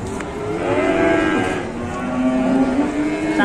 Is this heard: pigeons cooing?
no